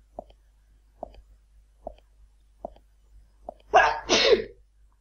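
A single loud sneeze bursts out near the end, preceded by a few faint, evenly spaced soft clicks in an otherwise quiet room during a horror video game session.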